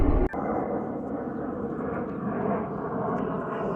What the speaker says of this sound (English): I don't know if you hear the plane going by,